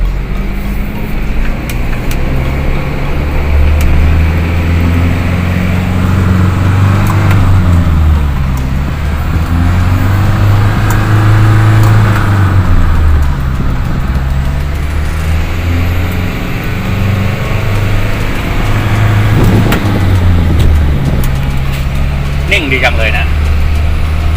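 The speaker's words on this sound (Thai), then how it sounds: "ขับลองรถใหญ่นะครับ รถหกล้อช่วงยาวนะครับ" An Isuzu six-wheel long-wheelbase truck on a test drive after repairs to its ball joints and tie rods, with a loud steady engine drone and road rumble from inside the cab, someone talking over it throughout.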